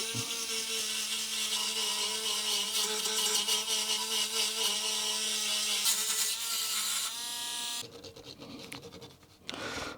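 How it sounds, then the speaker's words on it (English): A fiberglass pen scrubs the expansion port contacts of a Sinclair ZX80 home computer, giving steady close-up scratching and rasping for about seven seconds, then a quieter, choppier patch of scraping near the end. "I'm just cleaning a little bit of the expansion port"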